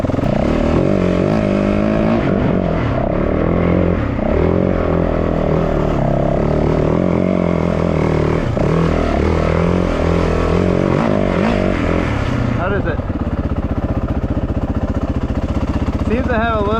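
An uncorked Yamaha WR450F dirt bike engine runs loud and close, its buzzing note climbing and dropping as the throttle is worked, with a voice talking over it.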